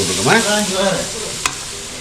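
Small shallots and large onions are stirred together in a clay cooking pot for a Sri Lankan village-style black chicken curry, giving a close, sizzling hiss with a scraping stir and one sharp knock near the end.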